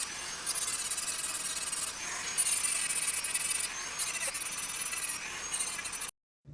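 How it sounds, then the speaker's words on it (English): Hand file and sandpaper working a small silver ring part, a continuous close rasping scrape with slight rhythmic strokes, then abrupt silence. "I'll file it flat so that it'll solder to the back of the ring plate a little bit easier, making sure to sand down those inner edges first"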